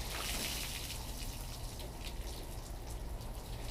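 Water is poured onto a ceramic-coated car, giving a steady splashing hiss that runs the whole time at moderate distance.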